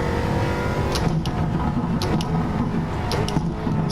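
A 2013 Dodge Viper GTS engine pulls hard under acceleration on a race track, a loud, steady, close-up engine roar with a few brief sharp transients cutting through.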